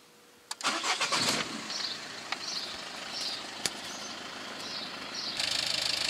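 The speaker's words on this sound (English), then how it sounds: "Start the engine." A click, then a car engine cranks and catches, settling into a steady idle with a few brief revs along the way.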